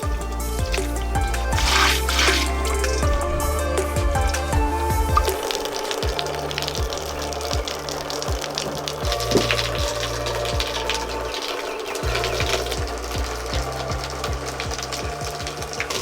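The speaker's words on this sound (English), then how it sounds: "it forces the water to come down the actual drip edge" Water runs and drips steadily off roof sheathing and flashing on a home addition during a water test, a continuous splashing trickle with scattered sharp drips and an occasional low mechanical hum.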